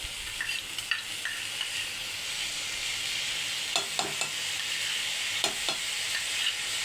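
Tomato pulp and sugar stirred in a wok, a steady close sizzle with scattered scraping taps of the spoon against the pan, alone with no voices.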